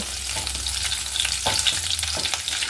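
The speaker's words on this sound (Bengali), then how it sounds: "দিয়ে দিলাম মেথি এটা ফোড়নটা এবার একটু ভেজে নেব" Fenugreek seeds fry in hot oil for a tempering, giving a close, steady sizzle with small crackles and a few light stirring scrapes.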